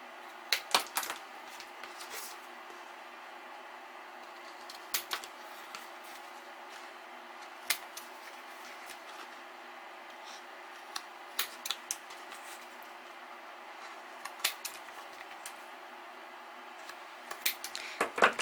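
Scissors snip mitered corners on the paper pages of a 6x6 mini album, giving sparse, faint, crisp cuts at irregular intervals over a quiet room.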